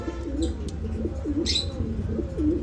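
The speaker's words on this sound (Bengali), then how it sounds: "খুবই ভালো কবুতর জোড়া" Red Lahori racing pigeons, a breeding pair, coo in a steady repeating rhythm, several low rolling coos close by over a constant low background rumble, with a few faint chirps above.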